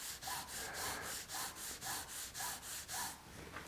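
A pen drawing straight horizontal lines on paper with evenly spaced, rhythmic rubbing strokes, about eight back-and-forth scratches repeating at a steady pace, close and alone with no talk.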